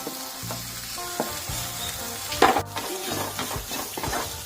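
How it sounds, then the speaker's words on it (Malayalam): Shredded chicken tossed into a hot pan and stir-fried with spices, a lively crackling sizzle broken by clattering spatula strokes against the pan, with a louder burst of frying midway, no voices. "ഇനി നമുക്ക് പിച്ചി വെച്ച് ചിക്കൻ നമുക്ക് ഇതിലോട്ട് ചേർത്തെടുക്കാം കേട്ടോ"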